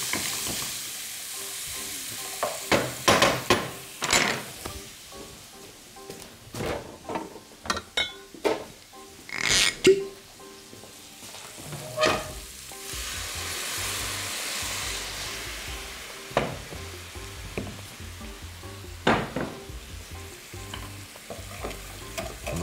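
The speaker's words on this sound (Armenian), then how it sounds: "Փոքր կարամելիզացնելուց հետո դրանք ավելացնենք սպիտակ անապակ գինը։" Dry white wine poured over caramelized vegetables in a pan for caponata, hissing and sizzling with repeated stirring and scraping clatter, steady and close with no voices.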